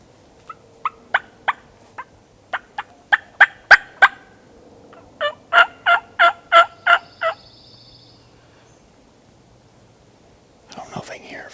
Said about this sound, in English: He's gobbling his head off